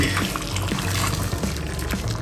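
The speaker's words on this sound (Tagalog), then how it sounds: "Bubuhusan ninyo ng mainit na tubig." Hot water poured over raw chicken wings in a home kitchen, a steady splashing pour running for a couple of seconds, close and fairly loud with no talking.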